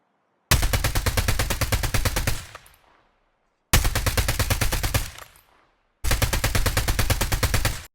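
Automatic gunfire from a weapon in COD Mobile, three long rapid bursts of shots, each several seconds long and loud and close, with short gaps between them.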